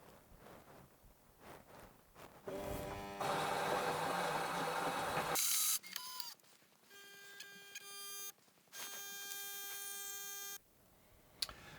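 A Siemens EQ700 bean-to-cup machine brews a single strong espresso, first grinding with a loud buzz, then settling into pulsing pump hums and tonal mechanical whirs that stop and start in steady stages.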